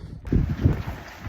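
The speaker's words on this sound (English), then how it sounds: "it's so windy out here" Strong gusting wind buffets the microphone outdoors during a severe storm, a loud low rumble that starts abruptly and keeps roaring with uneven surges.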